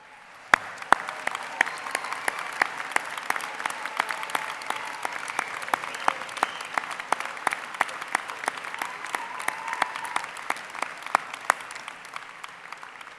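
Audience applause at a spring undergraduate commencement ceremony, steady dense clapping from a large crowd that carries on for over ten seconds, with a few sharper, closer claps standing out.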